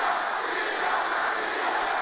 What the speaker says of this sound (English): Listen to this crowd, though.